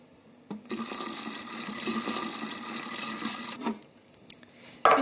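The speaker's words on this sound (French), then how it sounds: "Et je rajoute ensuite le sirop. Donc simplement eau et sucre." Water-and-sugar syrup pours steadily into a raspberry coulis for several seconds, a close liquid trickle that then stops, followed by a few faint clinks, with no talking.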